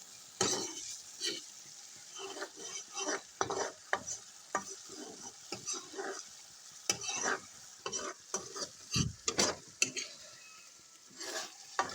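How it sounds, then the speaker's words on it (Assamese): Fish fries in a pan with a constant close sizzle, broken by frequent scraping and clinking as it is stirred and turned. "তো এতিয়া মাছ ফ্ৰাই হ'লে আমি এতিয়া কি কৰিম"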